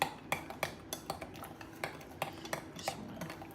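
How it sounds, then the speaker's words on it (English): A spoon stirs instant chocolate pudding mixture in a bowl, giving quiet, steady clinks and scrapes against the bowl at a regular, brisk rhythm, close up with no talking. "Just want to stir it until it starts to thicken a little bit."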